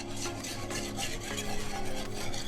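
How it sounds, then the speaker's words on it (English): Brown sugar is stirred into a mixture in a pot, giving a close, continuous scraping and swishing with quick rhythmic strokes and faint clinks, no voices present. "Give this a quick little stir. Mix in my sugar."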